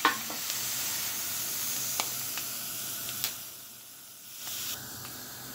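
Peppers roasting over open heat for pickles, giving a steady broadband sizzle and hiss close by, with a few small pops and crackles as they are slowly turned.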